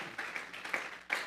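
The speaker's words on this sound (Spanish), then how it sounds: "Vamos a regalarle ofrenda de palmas al Dios de la gloria." A church congregation claps their hands during a worship service, a few scattered claps rising at an irregular rhythm, soft and somewhat distant.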